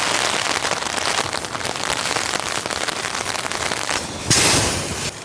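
Heavy rain pelts a tent or tarp at a campsite during a rainstorm, a dense, close patter of drops with scattered sharper taps and a brief louder surge near the end. No voices.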